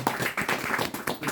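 An audience applauds after a fable reading, giving a brief burst of scattered, close hand claps.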